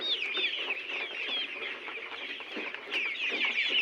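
Layer hens on a poultry farm cluck in a busy, overlapping chorus, near and steady throughout with no talk.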